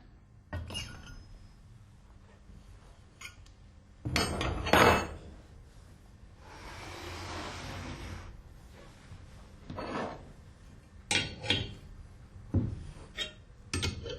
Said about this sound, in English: Lift out the valve body.